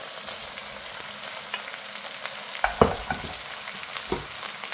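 Vegetables tossed into a hot pan for a quick South Indian curry, a steady sizzle and hiss with a few clattering stir knocks, close and continuous, no voices.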